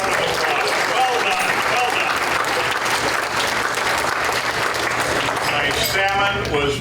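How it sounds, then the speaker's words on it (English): A banquet audience at a Rotary club centennial gathering at the Hotel Mead claps loudly for the hotel staff, dense sustained applause close by, with voices and cheering rising near the end. "Let's give them a big round of applause."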